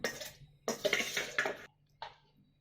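Bottle gourd soup scrapes and clatters into a blender jar in two dense bursts, with kitchenware clinking, then a short final scrape after a brief pause.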